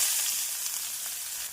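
Chopped onions go into hot oil in a pan with cashews for vegetable semiya kichdi, giving a steady, dense sizzle at moderate volume with no talking.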